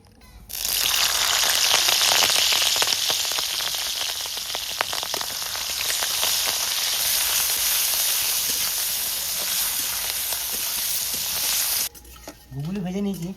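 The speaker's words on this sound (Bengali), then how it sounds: "প্রথমে গুগলিগুলোকে ভেজে নেব" River snails fry in hot mustard oil in a wok, giving a loud, steady sizzle with scraping and clattering from stirring throughout, then the sizzle drops away and a voice is briefly heard at the end.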